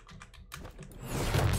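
Computer keyboard keys clicking during a Prey video game session, a quick run of sharp taps that ends in a denser burst, close and alone.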